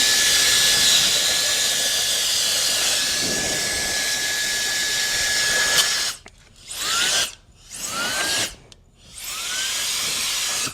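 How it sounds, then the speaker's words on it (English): A Wolfbox MegaFlow 200 cordless high-pressure air blower blasts into the creases of white Tesla car seats, a loud steady whoosh with a high whine, then several short spin-down-and-restart bursts. "I'm gonna take the Wolfbox MegaFlow 200 and blow out all of these creases"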